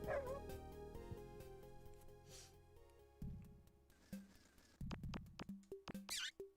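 A dog in a video game yips and whimpers in short, sharp bursts over game music and sound effects, fairly quiet and without talking.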